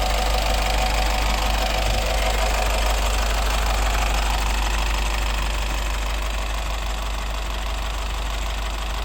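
A 2016 Honda City V diesel turbo engine idling nearby, a steady, even rumble that holds at constant loudness throughout with no talk over it.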